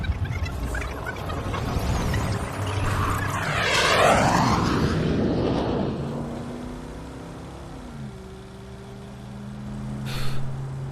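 A fixed-wing airplane flies overhead, its engine roar rising as it approaches, peaking with a sweeping Doppler pass, then fading into the distance.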